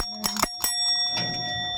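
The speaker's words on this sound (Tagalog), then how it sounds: "Ayan yung aming bell na yung tindahan." Shop bell at a Filipino sari-sari store, a few quick bright rings in a short burst followed by a fading ringing tone.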